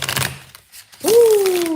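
A deck of cards riffles in a quick rattling burst of clicks, then brief quiet, followed by a voice crooning a long sliding vocal sound.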